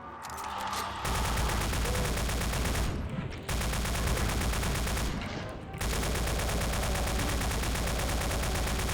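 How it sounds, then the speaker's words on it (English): Sustained, dense automatic fire from a chain gun and plasma gun in a Doom-style shooter, loud and continuous in long bursts broken by two brief pauses. "our chain gun, we got our plasma gun, and both of them are machine guns"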